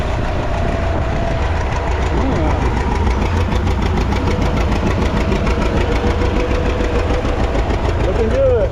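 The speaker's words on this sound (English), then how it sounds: "He's got that thing idling." Tractor engine idling at a plow day event, a steady low rumbling chug close by, continuous throughout with faint voices in the background.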